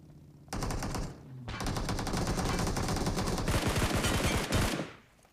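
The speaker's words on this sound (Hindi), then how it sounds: "पीछे वाले बंदे जो थे वो भी मेरे ऊपर फायर कर रहे थे" Rapid automatic gunfire from a BGMI battle at a tower, loud and close, with sustained bursts after a brief opening volley and a short pause, cutting off near the end.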